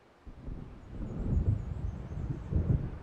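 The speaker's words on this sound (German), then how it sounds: "So wie es aussieht, sieht ein Sturm auf." A thunderstorm gathering in the video game Alan Wake, heard as a low, steady rumble with swelling surges of thunder-like roar over constant wind and noise, with no talking.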